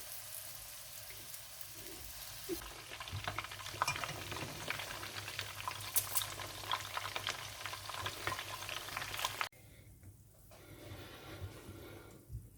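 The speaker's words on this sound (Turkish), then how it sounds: "Ve şimdi köftelerimizi artık yağımızın içerisine atabiliriz her tarafı eşit şekilde nar gibi kızarıncaya kadar pişireceğiz." Potato-stuffed meatballs fry in oil with a dense, close crackling sizzle that grows louder after the first few seconds. The sizzling then drops abruptly to a softer bubbling near the end, and no one talks.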